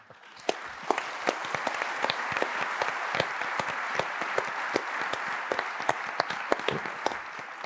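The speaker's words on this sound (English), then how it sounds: "Always nice to finish with a round of applause." Conference audience applauding panelists at the close of a city advocacy plenary, a dense steady patter of many hands with sharper individual claps standing out, fairly close and sustained throughout.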